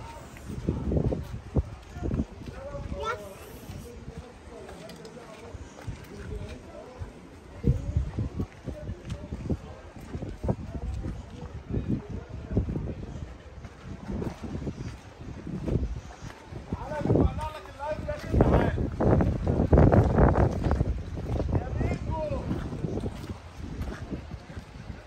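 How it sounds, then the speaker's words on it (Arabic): Zodiac inflatable boat ride on the water at Dahab, with steady engine and wind rumble, buffeting microphone noise and splashing throughout, while people talk over it. "مركب زودياك اسمه زودياك"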